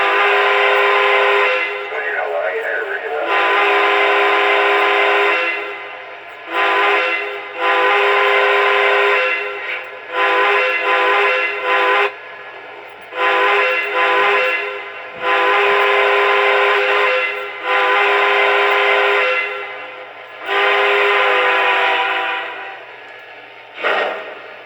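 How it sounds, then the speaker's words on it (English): A Lionel TMCC Northern Pacific 4-4-2 Atlantic model locomotive sounds its steam whistle in a series of loud, sustained chime blasts separated by short gaps, some long and some clipped, with no talking. "Let's start with the whistle."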